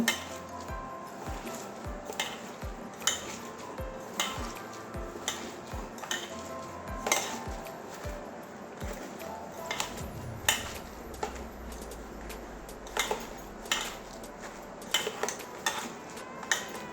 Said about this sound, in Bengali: বেসনটা দিয়ে দিচ্ছি এভাবে মাখিয়ে নেবো